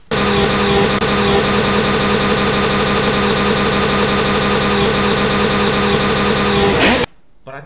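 Car engine sound effect from a Scratch racing game: a loud, steady looping engine drone that holds for about seven seconds, then cuts off abruptly.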